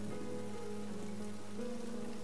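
Heavy rain pours down in a constant, dense roar, steady and unbroken, with a low rumbling hum beneath it.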